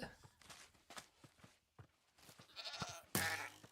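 Goats in the Minecraft video game bleat faintly and repeatedly amid soft steps and game noises, with a brief louder burst near the end.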